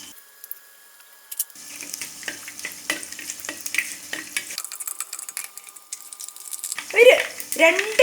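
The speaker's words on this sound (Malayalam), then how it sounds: "അപ്പൊ നമ്മുടെ കടുകൊക്കെ നന്നായിട്ട് പൊട്ടി വന്നിട്ടുണ്ട്" Mustard seeds crackle and spit in hot oil in a pan for a potato roast, a sparse scatter of small pops rising into a louder burst of sputtering near the end, with a spoon or utensil clinking and scraping in between.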